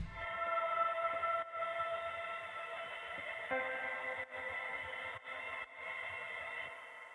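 Sustained layered electric guitar tones with a wavering vibrato, several notes stacked together and ringing steadily at moderate volume, each part's vibrato at a slightly different rate.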